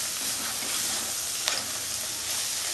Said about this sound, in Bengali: পেঁয়াজ আর ক্যাপসিকামটা নরম হয়ে এসছে, এটা নরম হয়ে গেছে। এবার আমি এতে পনিরটা দিয়ে দেবো।